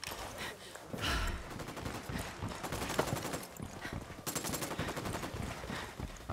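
Fast rattling automatic bursts and scattered shots from a firefight in the Ghost Recon Wildlands video game, kept at fairly low volume and set in a continuous, chaotic combat soundscape.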